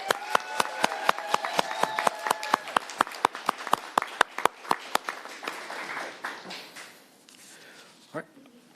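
Sparse rhythmic handclapping from a small audience at a Tacoma city council meeting, crisp individual claps in a steady beat fading after about six seconds, with talking over the start and end.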